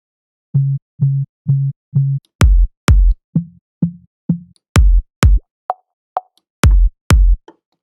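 A punchy electronic kick drum in a remix, EQ-cleaned in the bass range, repeats in a steady pattern, alternating with deeper booming sub hits and short plucky blips, clean and dry.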